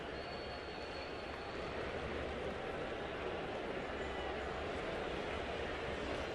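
A train rolls along railroad tracks beside a Seattle baseball stadium, a steady, broad rumbling wash that stays constant throughout, faint and distant, with a faint voice under it.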